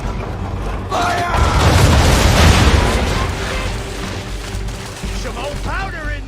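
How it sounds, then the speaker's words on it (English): A ship's cannons fire a broadside in Assassin's Creed III: a loud rolling volley of booms swells and fades over a few seconds, with brief voices shouting before and after. "Now, aim all guns at her bow and do as much damage as possible. Make ready! Fire!"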